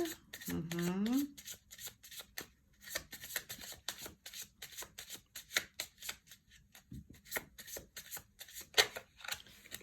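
Tarot cards being shuffled and drawn for a reading, giving a rapid run of crisp riffling snaps and flicks that stay close and steady throughout, with a voice briefly audible in the background.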